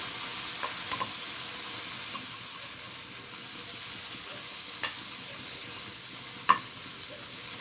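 Onions and tomatoes sauteing in a pan for green chilli chicken, a quiet continuous sizzle with occasional light scrapes and clicks of a spoon stirring, and no voices.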